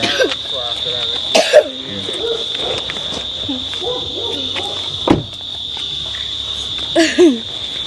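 A few short coughs from an elderly man cut through steady insect chirping and faint background voices, one near the start, one midway and a pair near the end.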